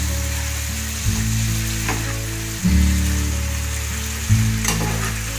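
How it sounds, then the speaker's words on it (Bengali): Boal catfish frying in oil with spices for a dum dish, a loud, continuous close-up sizzle with a few sharper bursts of crackle and no voices. "দেখুন মাছের থেকে অনেক তেল বেরিয়ে এসছে, মাছটা অনেকটাই ভাজা হয়েছে।"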